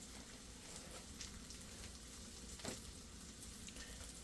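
Keto sausages simmering in a pan, a steady close crackle and hiss that runs evenly throughout with one brief louder pop near the end, no voices.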